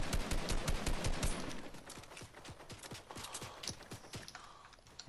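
Rapid bursts of gunfire ring out in a first-person shooter match, dense and loud at first, then thinning into scattered single shots and short volleys over the last few seconds.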